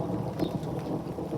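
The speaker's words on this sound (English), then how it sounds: "Did you hear that thunder?" Thunder rolls during extreme rain at a house, a dense steady downpour hissing throughout with low rumbling swells mixed in, no voices.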